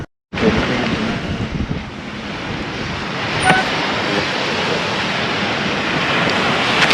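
Sea waves wash onto the shore at Avşa Island, a steady broadband surge with heavy wind rumble across the microphone, continuous and close throughout.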